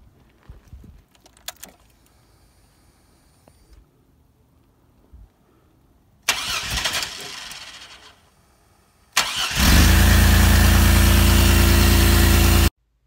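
A swapped Chevy 5.3 LS V8 in a Chevy Beretta, wired with a cut-down engine harness, cranks after keys jangle and a few clicks. It catches briefly, then fires and settles into a loud, steady, close idle.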